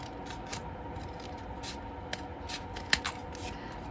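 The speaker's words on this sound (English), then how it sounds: "I wonder if my scissors are strong enough to cut through all of these layers" Scissors snip repeatedly through several layers of thick paper, a steady series of crisp crunching cuts close by with a couple of sharper clips.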